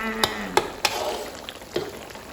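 Spicy pork leg stir-fried in a pan, with a broad steady sizzle and a few sharp scraping clacks of a utensil against the metal, close and clear, no voices.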